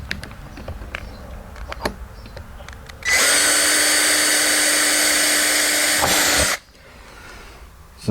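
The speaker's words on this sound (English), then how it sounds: "I'm going to go over here, drill my hole." An electric drill bores a hole in an old car, a loud high-pitched whine held steady for about three and a half seconds, with quiet clicks and handling noises before and after.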